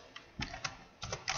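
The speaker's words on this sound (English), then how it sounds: "and now we'll type our instruction" Typing on a computer keyboard while writing Java code, a few quick soft key clicks in two small bursts, close and quiet with no speech.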